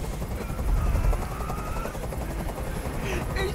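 A helicopter in the video game Detroit: Become Human thunders steadily and loudly with a dense low rotor rumble, mixed with bursts that resemble gunfire.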